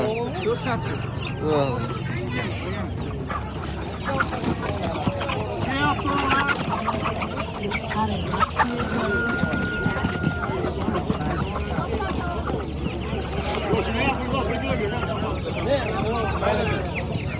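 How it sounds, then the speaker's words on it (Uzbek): Chicks and chickens cluck and cheep throughout a busy outdoor poultry bazaar in Kuva, with people talking and bargaining nearby over the steady crowd bustle. "Mana yana jo'jalar bor ekan, burlar jo'jalar bor ekan"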